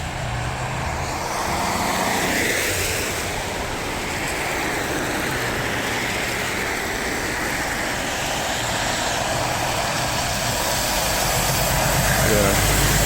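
A truck drives past on a road with a steady, loud engine rumble that swells toward the end, while people talk over it.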